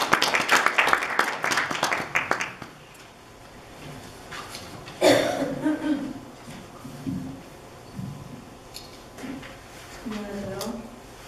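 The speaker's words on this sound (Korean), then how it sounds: "박수 부탁드립니다" A brief burst of audience applause at a Korean school speech contest fades after a couple of seconds, leaving a quiet room with a voice and a few scattered sounds.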